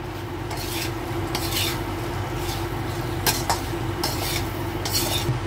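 Taro (arbi) stirred into onion masala in a pan, with a steady scraping, rubbing sound and a few sharper clinks of the spoon against the pan, close and continuous with no voice.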